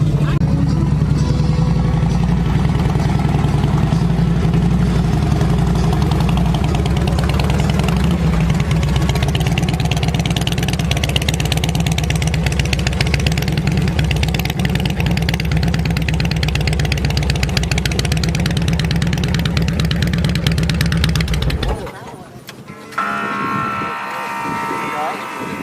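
At a lakeside car show, a 1998 Harley-Davidson Softail motorcycle idles up close with a loud, steady, deep rumble for over twenty seconds, then cuts off abruptly, leaving faint background noise and a voice.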